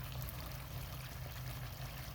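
A DIY waterfall on a bait pond, fed by a 7,800 gallon-per-hour pump, pours a steady, continuous rush of water with a low rumble underneath, close and unbroken throughout.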